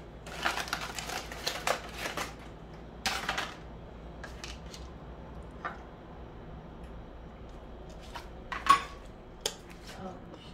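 A knife and fork cutting grilled steak on a plate, sparse light clinks and scrapes of metal on a dish, close but quiet, with a faint background hiss.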